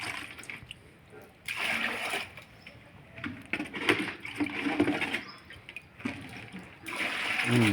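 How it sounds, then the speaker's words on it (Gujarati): Water splashes and gushes as it is poured into a bucket for mixing with chemical at an AAC block masonry job, in several bursts of pouring separated by brief pauses. "આમાં જો ડોલમાં પાણી નાખવાનું આવે છે"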